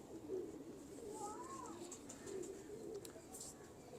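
Soft, low cooing of Teddy pigeons rolls in repeated murmurs, with faint voices talking in the background.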